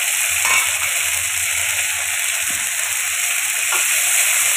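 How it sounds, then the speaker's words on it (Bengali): Ground green and dried chili paste with cumin paste frying in a pan, a continuous hiss of sizzling with a few soft stirring scrapes, close and steady, no talk. "এবার দিয়ে দিয়েছি লঙ্কা বাটা আর জিরে বাটা"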